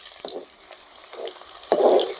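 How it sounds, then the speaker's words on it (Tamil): Drumstick pieces frying in sesame oil for a traditional pickle give a soft crackling sizzle, with a few stirring scrapes and a louder burst of frying near the end. "நல்ல எண்ணெயிலேயே இந்த காய் பொரியணும்."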